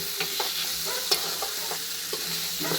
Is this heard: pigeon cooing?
no